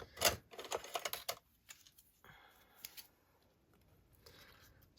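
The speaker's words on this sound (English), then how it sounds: "I'll just go ahead and cut that off" Scissors snipping the edge off a folded paper file folder, a quick burst of close crisp cuts at the start followed by softer paper rustling and handling, no voices.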